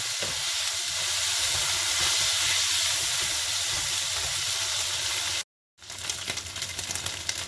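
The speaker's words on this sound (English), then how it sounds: "Now stir fry the kway teow for a couple of minutes" Kway teow rice noodles stir-fried in a hot wok for a Tom Yum hor fun, giving a loud steady sizzle and hiss that holds for about five seconds, cuts out briefly, then returns.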